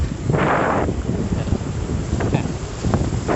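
Strong wind at Cha-am beach in Thailand buffets the microphone with a continuous rough roar. Gusts surge and fade throughout, with brief bursts of louder blowing.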